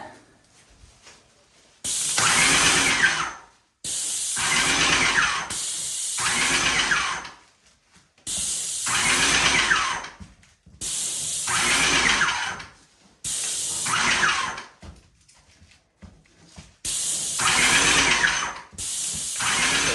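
Long hissing bursts of an InoKraft Maxpray M1 airless paint sprayer spraying paint, each lasting a second or two, repeated with short pauses between them, close and loud, no talking.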